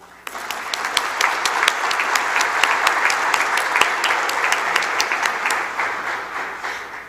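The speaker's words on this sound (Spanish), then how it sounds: "les pido un fuerte aplauso para don Leonel" An audience at a forum on artificial intelligence breaks into strong, sustained applause for a speaker, a dense, loud wall of clapping that rises quickly and holds before easing slightly near the end.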